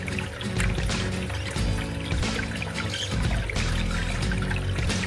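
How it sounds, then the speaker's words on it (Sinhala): Water is poured into a hang-on-back aquarium filter, a steady close splashing trickle that runs unbroken for about five seconds with no talking. "මට මතකයි හැටියට මේකට වතුර ටිකක් පුරව ගන්න ඕන හැන්ග් ඔන් බෑක් ෆිල්ටර්ස් වලට."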